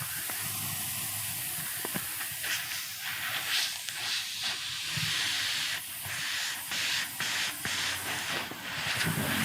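A steady, loud hiss of air escaping from a leaking tire, continuing without a break and rising slightly toward the end.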